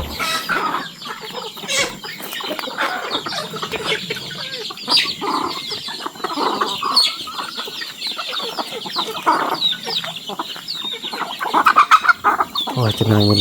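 Several hens cluck continuously at close range, with busy overlapping calls and an occasional louder squawk, in a rural farmyard setting.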